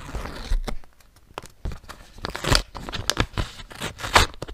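A paper surprise packet with a bright duck pattern is torn open up close, a run of sharp ripping and crinkling bursts with brief pauses between them and no talk.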